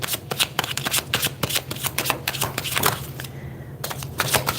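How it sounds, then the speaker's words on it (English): Rapid riffling and slapping of tarot cards being shuffled up close, a steady stream of crisp flicks with a short pause near the end. "These cards are a little bit difficult to shuffle"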